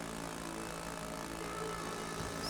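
Propeller airplane engine in the RealFlight 8 flight simulator game, a continuous, even, buzzing drone at moderate level, holding steady throughout with no voices.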